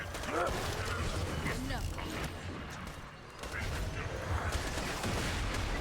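Rapid bursts of video game gunfire crackle and rattle amid dense mechanical clatter, with a brief dip partway through before the shooting resumes.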